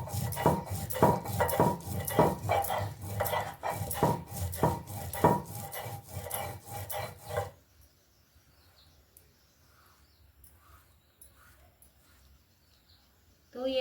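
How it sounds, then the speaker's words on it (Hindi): Cumin and other spices are ground into a paste in a village kitchen with steady, rhythmic grinding strokes for several seconds, then the grinding stops and quiet follows with faint background sounds. "इसको भी अच्छी तरह पीसना है।"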